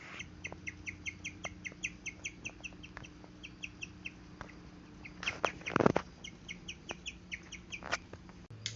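A guinea pig chirps in a rapid, rhythmic series of short high-pitched peeps that repeats steadily and quietly, with light knocks and a brief rustling clatter in between.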